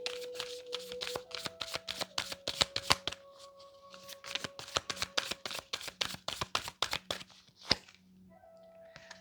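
Tarot cards are shuffled close up in a long run of quick, crisp riffling slaps, with soft tones humming underneath and no talking.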